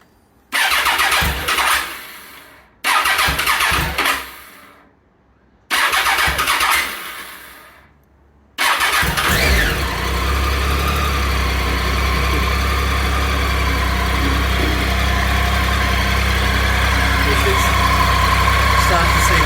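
A Triumph Tiger 800 motorcycle engine, serviced during an oil and filter change, cranks in three short bursts. On the fourth try it catches and settles into a loud, steady idle that runs to the end.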